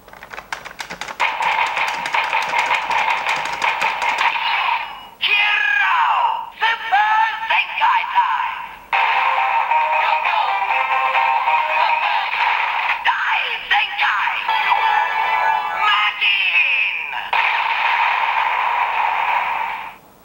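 Loud, crackly electronic attack effects from a DX Geartlinger toy from Kikai Sentai Zenkaiger, buzzing bursts with warbling tones, repeated several times with short breaks.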